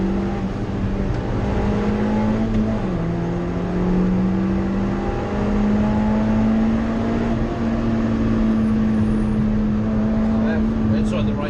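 Car engine on a first drive around the Nürburgring, loud steady droning from inside the cabin as it climbs through the gears, with a voice calling out over it.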